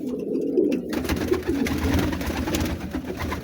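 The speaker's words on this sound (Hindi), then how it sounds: "ये देख सकते हैं आप कबूतर" Fancy pigeons coo in low, throaty, repeated calls, close by and steady, with a brief rustle at the start.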